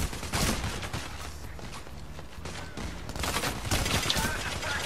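Gunfire in the video game Payday: The Heist comes as dense, loud bursts of rapid shots with short gaps between, continuing through the whole stretch.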